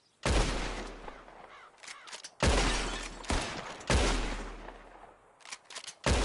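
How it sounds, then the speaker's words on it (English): Loud, close gunshots in a Wild West pistol duel in a video game, four or five sharp cracks at uneven intervals, each followed by a short ringing decay, with no talk. "Just draw your gun and aim when you're ready, all right? Shoot!"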